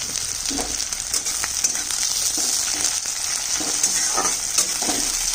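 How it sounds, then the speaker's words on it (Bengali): Chopped onion fries in hot oil in a pan with dried chilli and bay leaf, a steady close sizzle with light stirring scrapes and clinks throughout, no talking. "এবার পেঁয়াজ কাটা দিয়ে দিচ্ছি। আমি 2 টেবিল চামচ তেল দিয়েছিলাম, আর 1 টেবিল চামচ তেল দিয়ে দিচ্ছি।"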